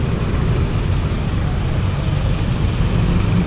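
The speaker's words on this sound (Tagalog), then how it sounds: "Pati mga motorista nadadamay sa sobrang traffic" Congested road traffic crawls past Bacoor elementary school. A steady, low rumble of idling and creeping engines, with cars, buses and trucks, fills the scene at an even loudness with no pauses.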